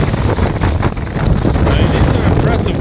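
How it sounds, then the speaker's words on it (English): Ocean waves break on a windy North Carolina beach, heard as a loud, continuous roar of surf mixed with heavy wind buffeting against the microphone. "these are impressive waves, even for not having a tropical storm or a hurricane right now"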